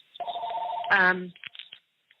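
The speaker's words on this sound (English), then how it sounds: "I apologize for my phone ringing." A phone rings during a recorded interview, giving a short electronic ringtone burst followed by a brief warbling tone and a few faint chirps, fairly close and loud with a voice speaking over it.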